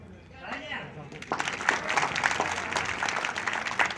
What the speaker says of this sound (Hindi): तालियों में कोई कमी नहीं होनी चाहिए।